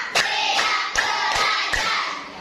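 A classroom group claps in unison in a counted routine: about six sharp, evenly spaced claps roughly every 0.4 seconds, close and loud, with no talking.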